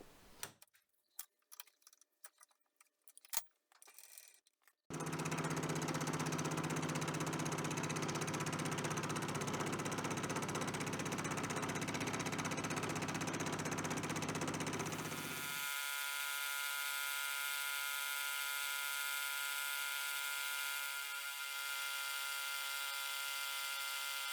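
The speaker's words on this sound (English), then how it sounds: "I'm using a button insert in my fly cutter. It's a bit difficult to get a good finish on mild steel" Fly cutter fitted with a button insert machines mild steel, a loud continuous cutting drone that starts after several seconds of scattered clicks and shifts into a steadier tonal hum toward the end.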